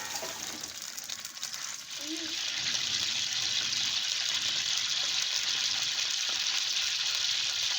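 Pakoras sizzle in hot oil, a steady loud hiss that swells after a couple of seconds, with people talking faintly underneath.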